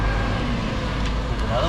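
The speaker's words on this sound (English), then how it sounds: "Look, you see this truck coming around the corner?" A truck rounds a corner at the Port of Brisbane, a broad low rumble of engine and road noise heard at a moderate distance for the full stretch, with faint talk over it.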